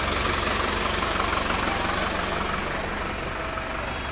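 A 2015 Sonalika tractor engine idles close by at a tractor market with a steady, low, rumbling knock that never changes pace.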